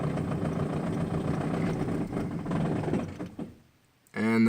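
A 22R-TE engine with running problems cranks and idles with a steady mid-pitched rumble, then stumbles and fades almost to silence before it abruptly starts again at a louder, harsher level.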